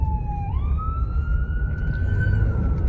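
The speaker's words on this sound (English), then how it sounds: "We got ambulance coming." An ambulance siren wails steadily and rises in pitch as it approaches a vehicle on the road, loud over constant engine and road rumble, with no talking.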